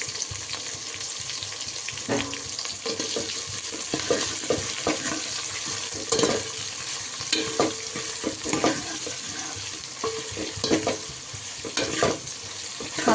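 Onions and tomatoes sautéing for a parotta kurma, a steady hiss of frying with repeated scraping stirs of a spoon against the pan throughout, close and continuous with no talk.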